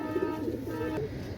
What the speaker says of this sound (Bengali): একজোড়া দেখেন, একজোড়া ওমান টেডি কবুতর মাশাআল্লাহ